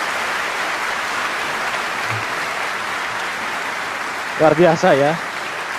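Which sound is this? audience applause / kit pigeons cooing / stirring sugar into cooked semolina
audience applause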